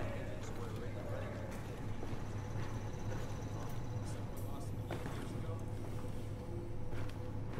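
Ship diesel engines run in the Battlefield 4 video game, a steady low drone with a constant hum band, steady and loud throughout, with other faint game noises above it and speech-like sounds mixed in.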